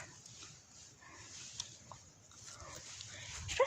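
A dog heard faintly at a distance in a quiet home, giving soft whimpers and short muffled barks scattered through low background noise. A louder yelp comes near the end.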